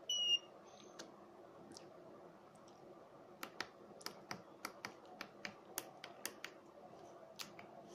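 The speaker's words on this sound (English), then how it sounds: "now I am going to enter 3 times wrong password" Keypad buttons on an RFID petrol pump pressed one after another while a password is entered, a series of sharp, quiet clicks in an uneven rhythm after an opening beep, with no talking.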